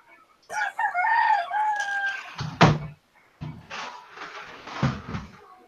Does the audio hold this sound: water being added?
no